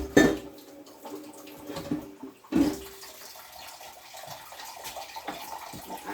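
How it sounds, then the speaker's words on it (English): Water is poured into a canner on the stove, a splashing, trickling pour with a couple of louder splashes and clinks against the pot, close by and with no talk. "I probably better add more water to the canner though"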